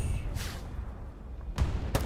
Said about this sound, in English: Explosion happens behind us.